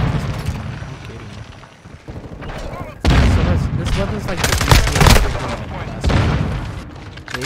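Rapid automatic gunfire from the FSS Hurricane submachine gun in the video game Modern Warfare 2, loud dense bursts that swell at about 3 and 6 seconds over a steady battle din.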